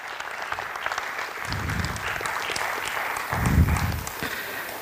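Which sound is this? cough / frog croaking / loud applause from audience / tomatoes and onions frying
loud applause from audience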